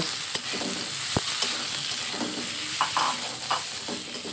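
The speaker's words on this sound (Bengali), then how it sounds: "আমি রসুন আর পেঁয়াজের সাথে আগে কিছুক্ষণ আলুটা কষিয়ে নেব" Cut potatoes sauté in oil with garlic paste and onions, a steady close hiss of frying overlaid by scattered scrapes and a few sharp knocks of a spoon against the pan.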